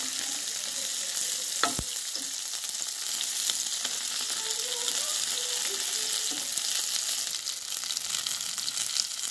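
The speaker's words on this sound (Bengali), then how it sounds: "মাছটা এক পিঠ হালকা করে ভেজে নেব" Bata fish sizzles in hot oil in a pan, a steady, close crackling hiss with one sharp clatter early on, no voices.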